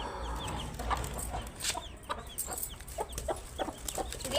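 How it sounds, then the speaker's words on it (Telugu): Hen that has just hatched chicks clucking close by in a short run of soft, irregular clucks, with no talking. "ఇందాక ఒక కోడిని చూపించాను, ఇది 2వ కోడి."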